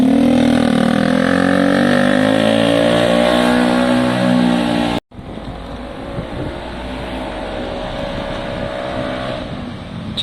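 A Gilera DNA motorbike engine revs loud and close on a short test ride, with rising, straining pitch, then a sudden cut to a lower, steadier running drone.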